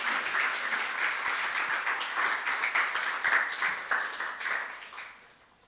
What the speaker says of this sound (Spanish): Le damos un fuerte aplauso al Señor por nuestro Señor Jesucristo.